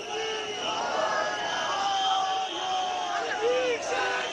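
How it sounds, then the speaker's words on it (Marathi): A huge crowd of Ganesh devotees at the Lalbaugcha Raja immersion procession in Mumbai, a loud continuous roar of voices with scattered shouts and chants rising and falling. "आणि आता लालबागच्या राजाला निरोप देण्यासाठी गणेश भक्तांची अलोट गर्दी"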